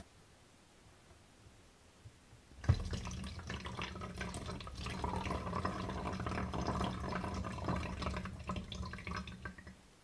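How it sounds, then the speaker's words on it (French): White vinegar is poured into a spray bottle in a steady, close liquid trickle that starts abruptly with a small knock. It keeps flowing for several seconds over a soft background hiss. "je vais mesurer 40 ml de vinaigre blanc pour terminer"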